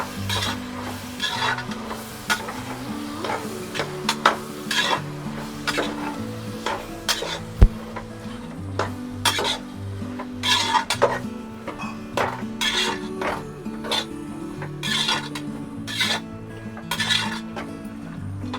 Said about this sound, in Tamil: இதை நல்லா வதக்கி விட்டுடலாம்.